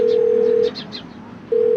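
A telephone ringback tone sounds loud and close while a call is placed, a steady tone that stops for almost a second and then resumes, with faint voices in the gap.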